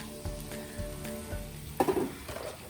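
Chopped onions hitting heated oil in a pan for a homemade meat sauce, a soft, close sizzle with a few clatters and stirring sounds, a brief louder crackle partway through.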